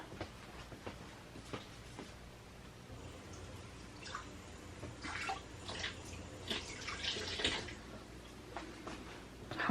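Running water rinses a soap-making utensil used for cold process soap, a soft steady splash with brighter bursts of flow and drips toward the end, fairly quiet and with no talking.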